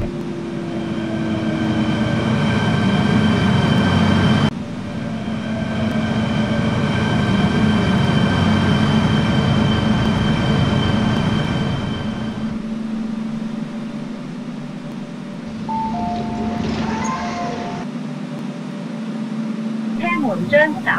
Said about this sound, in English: The train to Tung Chung is arriving.